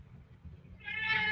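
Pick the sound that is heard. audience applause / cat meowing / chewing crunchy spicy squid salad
cat meowing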